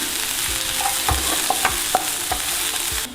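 Chopped onion, ginger, green chilli and curry leaves sauté in hot oil with popped mustard seeds for a carrot dosa, giving a steady close sizzle with repeated clinks and scrapes of a spoon stirring the pan.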